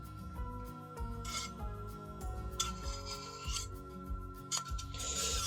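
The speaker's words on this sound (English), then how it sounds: "I use the putty knife to just do a scrape" A putty knife scrapes excess resin off a freshly dipped resin 3D print for a model vehicle, a close, quiet series of short rasping strokes with small clicks.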